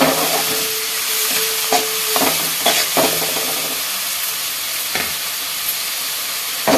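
Onions sautéing in a pan for soya gravy, a loud, close, steady sizzle broken by several clanks of a spoon stirring against the pan, with no voices.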